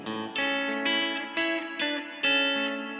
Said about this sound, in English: adding a nice reverb.